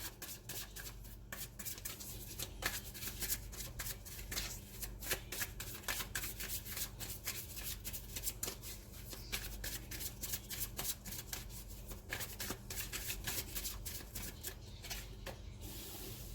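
Tarot cards are shuffled continuously and close up for about sixteen seconds, a dense, quiet riffle of rapid slaps and flicks with no talking.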